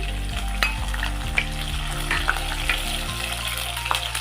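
Onions, green chilies and curry leaves frying and stirred in a pan, with a steady sizzle, sharp crackles and repeated scraping strokes over a low hum, with no talking.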